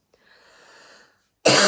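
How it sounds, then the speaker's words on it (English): A faint, wheezy breath followed by a sudden loud, harsh cough that bursts in right at the end. "so I can't stop coughing"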